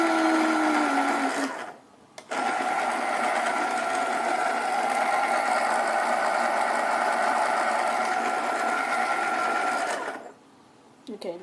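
A pencil is sharpened while colouring, producing a steady mechanical whirring grind that runs about eight seconds, with short pauses before and after.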